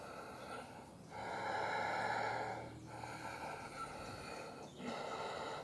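Controlled yogic breathing in Ashtanga practice with the belly locked below the navel: three long, audible breaths through the nose, slow and steady with short pauses between, close and quiet with no talking.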